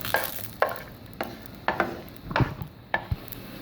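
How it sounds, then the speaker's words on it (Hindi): A spoon stirring dry fruits as they roast in a dry pan, about eight crisp scraping strokes in an uneven rhythm, close and clear with no voices. "तो हम इसको इसी तरीके से चमचा मुस्तकिल चलाते रहेंगे, वरना अगर इसको छोड़ देंगे तो ये जल जाएगा"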